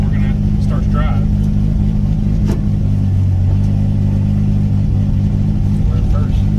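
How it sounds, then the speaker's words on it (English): A 2JZ-swapped BMW E30 with a DCT gearbox pulls away, its engine a steady, loud rumble throughout with a brief rise in revs midway; voices are heard over it. "So, without further ado, we're going to start to drive."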